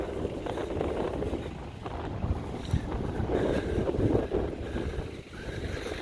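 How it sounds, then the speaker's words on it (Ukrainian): Heavy wind buffeting the microphone in open farm fields, a continuous loud rumbling roar that surges and dips, with no voices. "Так, вітер задуває зараз."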